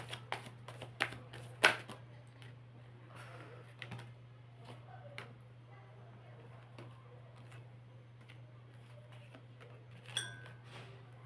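A tarot deck is shuffled and cards are drawn in soft, close, irregular flicks and slaps, with clustered bursts near the start and again near the end over a steady low electrical hum.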